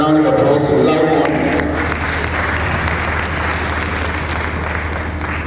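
A conference audience gives a distinguished panel a loud round of applause, thick continuous clapping that fades slightly over time, with a voice speaking over it at the start.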